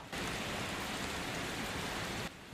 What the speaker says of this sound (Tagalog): Ba't kaya ang lakas ng ulan ngayon?